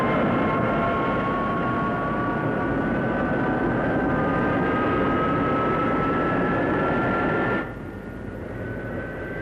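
A Messerschmitt 262, the first operational jet fighter, with its jet engines roaring in a loud, steady whine and sustained tones that climb slightly, then dropping to a lower level near the end.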